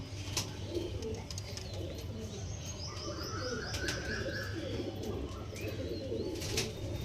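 Pigeons of the Kalanka breed cooing softly in a loft, with faint chirps and occasional wing flutters over a steady low background hum; continuous and at moderate distance, with rain outside.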